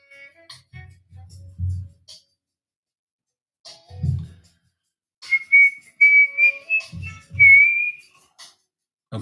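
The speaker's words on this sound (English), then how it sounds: "Okay, I shouldn't be whistling" A person whistles a tune in short, clear bursts separated by pauses, close and fairly loud, with low thumping sounds in between.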